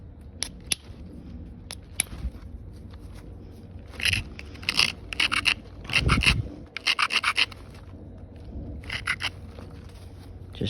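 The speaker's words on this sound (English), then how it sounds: "A little light abrasion will wear out any imperfections in the end of your hammerstone." Light abrasion on the end of a sandstone hammerstone, heard as intermittent dry rubbing and scraping strokes in short bursts with pauses and a few sharp clicks, close and fairly quiet.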